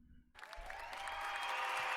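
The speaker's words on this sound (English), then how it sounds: "Clapping for the gamers, let it go." Clapping and cheering for gamers during a live online stream, bursting in suddenly after a short quiet moment and building into steady, dense applause that grows slightly louder toward the end.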